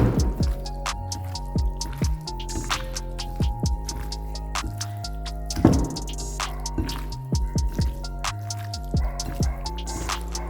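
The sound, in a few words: mixing masala-coated squid by hand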